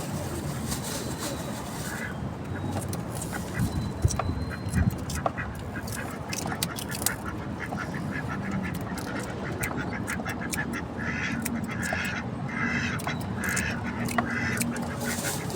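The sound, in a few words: ducks quacking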